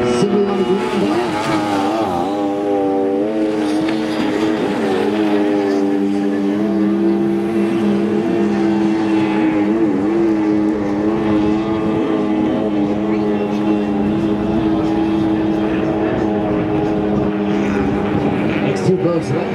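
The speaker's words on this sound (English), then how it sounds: "Next two boats letting Harold Green go by." Loud, steady engine drone with harmonic whine from racing powerboats, sustained throughout with slight pitch shifts, under a commentator's voice.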